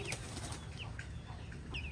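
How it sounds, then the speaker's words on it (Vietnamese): A pigeon flaps its wings while bathing in a water basin, a soft, steady fluttering and splashing rustle that stays faint throughout against a hissing background. "Con này sau bao nhiêu hồi lăn tăn suy nghĩ cuối cùng là cũng đã nhảy vào đây nó tắm."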